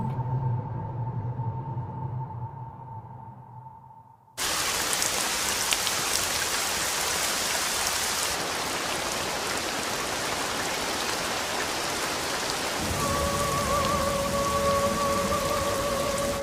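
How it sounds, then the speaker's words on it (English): Rain falls in a sudden, dense, steady downpour that cuts in abruptly after a quieter opening with a low hum, continuing loud and even to the end. "It looks like it's going to start raining soon."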